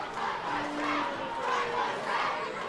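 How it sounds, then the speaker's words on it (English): Crowd in the seating bowl at a minor-league baseball game between the Long Island Ducks and York Revolution, a broad distant wash of clapping and cheering that swells and eases in waves, with no clear voices on top. "Blacker Jack is off to our left on the third base side of the seating bowl, trying to lead the fans in some clapping"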